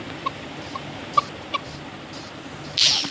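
A chicken in the video game Minecraft clucking in a few short, separate calls over a quiet background, followed by a brief burst of hissy game noise at the end.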